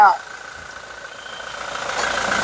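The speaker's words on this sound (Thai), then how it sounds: "ฟังเสียงเครื่อง เครื่องยังดังนุ่มมากเลยครับ" A 2017 Toyota Hilux Revo Smart Cab 2.4-litre pickup truck engine idles steadily with a low, even hum, close by, after a brief sound at the start.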